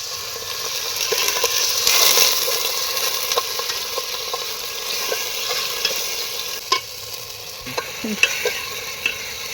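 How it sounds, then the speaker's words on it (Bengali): Masala of turmeric and coriander powder sizzles in a pan with a splash of water, heard as a steady close hiss that swells early on, with scattered sharp clicks and scrapes of stirring and no talk. "মশলাটা আমাদের প্রায় কষানো হয়ে গেছে, এবার সামান্য একটু জল দেবো আমরা।"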